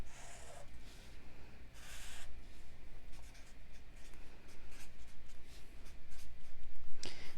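Hand-drawn strokes of a pen sketching a triangle, a steady run of scratchy, close marker-on-surface scraping for several seconds, with a few brief bursts of louder rubbing and no voice.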